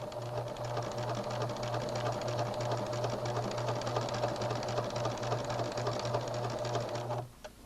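A sewing machine stitches a fabric dart alongside a strip of guide tape, running at a steady, even clatter for about seven seconds before stopping abruptly, close and alone with no talk.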